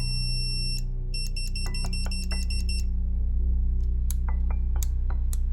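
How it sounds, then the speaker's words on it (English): Repeated electronic beeps from the horn button on a children's LED light busy board toy, in steady rhythmic bursts, followed by sharp plastic clicks from other switches and buttons. A constant low hum sits underneath. "More of a beep than a horn, right?"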